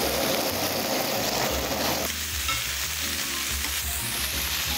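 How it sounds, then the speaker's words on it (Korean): Cubes of Denver cut steak sear in a pan over high heat, a loud, steady sizzle with bursts of stirring and scraping, a hissy frying texture that drops a little midway. "최대한 센 불에서 겉면만 빠르게 익혀줍니다"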